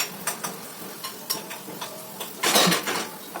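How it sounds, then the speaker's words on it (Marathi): A spoon scrapes and taps in a pan while poha is mixed into sautéed onions, a series of light, quick clinks and scrapes with a louder stir near the end. "कांदा परतल्यानंतर तयार केलेले मी पोहे त्यामध्ये मिक्स केले."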